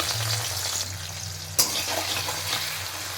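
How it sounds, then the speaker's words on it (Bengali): Chopped onions frying in oil left over from frying potatoes, a continuous close sizzle with a low hum and one sharp clack partway through. "এবার ওই তেলের মধ্যেই পেঁয়াজ কুচিগুলোকে ভালো করে ভেজে নেব"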